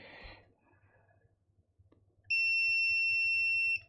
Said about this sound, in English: Right, let me turn the beeper off.